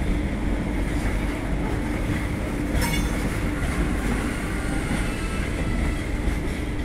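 A cement-loaded CSX freight train rolls steadily into a rail yard, its wheels and cars producing a continuous loud rumble with clattering along the track and a brief squeal midway.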